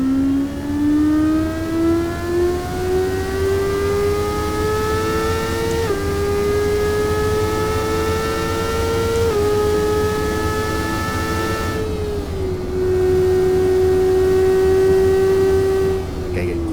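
A car drives a track in the racing game Assetto Corsa, its engine a steady, loud drone that climbs in pitch through the gears with brief dips at each shift, running continuously throughout.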